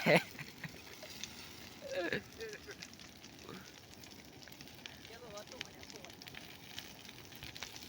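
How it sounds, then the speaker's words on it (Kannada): A faint, steady crackling of a village fire in summer heat, with soft distant voices and scattered small pops. "ಎಂಥ ಬೆಂಕಿ ಬಿಸಿಲಿನ ತಾಪಮಾನಕ್ಕೆ ಎಂಥ ಬೆಂಕಿ ಬಿದ್ದೈತೆ ನಮ್ಮ ಊರಾಗ"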